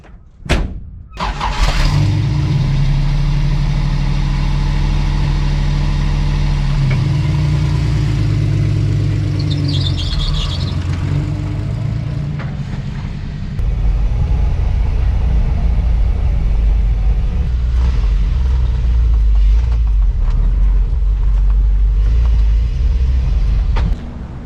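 A truck carrying a Perkins engine in its bed starts with a few thumps, then settles into a loud, steady low engine rumble as it drives off, close and continuous throughout.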